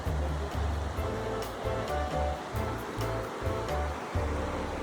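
A large river rushes steadily nearby in a creek picnic area, a continuous broad wash of flowing water with a low rumbling churn that pulses slightly, with no talking over it.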